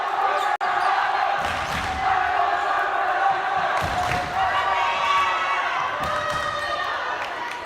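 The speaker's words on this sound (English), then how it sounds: "Highlander football and boys soccer teams leading that cheer to my right" In a high school gym during a volleyball match against Revere, the Highlander football and boys soccer teams lead a crowd cheer. Rhythmic chanting and shouting carry on with periodic thumps, and an announcer talks over it.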